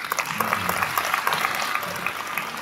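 Audience applause at a concert evening honouring an artist, a steady wash of many hands clapping at moderate loudness for the whole stretch, with faint crowd noise beneath.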